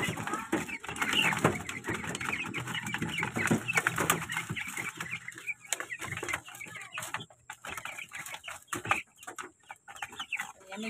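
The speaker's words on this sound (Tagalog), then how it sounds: "meron po akong alagang manok" Chickens cluck and chatter in quick irregular bursts nearby, with scratchy rustling and a faint high hum in the background.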